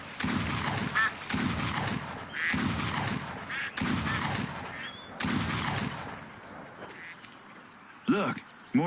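Shotgun blasts at ducks in the Duck Dynasty hunting video game: five heavy, booming shots spaced about a second apart, followed by a quieter stretch and faint duck calls.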